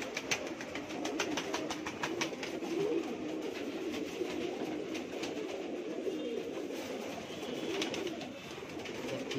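Feeke pigeons, a pilwan breed kept at a home loft in Mumbai, coo softly and repeatedly in a quiet, continuous chorus, with faint background noise and no talking.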